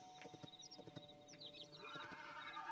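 Horse in the video game Hytale whinnying among clip-clop hoof steps, fairly quiet and short, with small game sound effects around it.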